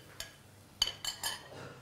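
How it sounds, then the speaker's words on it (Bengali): A spoon stirs red sweet sauce in a pan, making a few faint, scattered metallic clinks and scrapes against quiet room tone. "এটা কন্টিনিউয়াসলি নাড়তে হবে"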